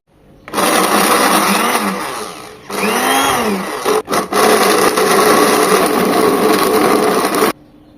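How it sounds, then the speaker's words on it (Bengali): A loud blender whirs steadily for several seconds mincing 500 grams of beef, with a brief pause and a stutter midway as the motor dips and restarts, then cuts off. "এখন এগুলোকে ব্লেন্ডারে কিমা করে নেব।"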